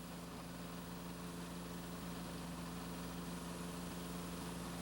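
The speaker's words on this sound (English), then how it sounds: "Now, with the motor running, check the controls and the working of the broom" A tow-type street sweeper's motor runs at a steady idle, a continuous low droning hum with constant vibration and no change in pace throughout.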